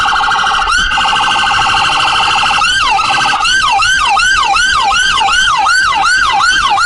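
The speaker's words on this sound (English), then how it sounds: "As you can hear the sirens in the background" Police car sirens wail loud and close while leading a Sicilian festival parade. One steady tone gives way to a rapid, repeating yelp pattern that continues to the end.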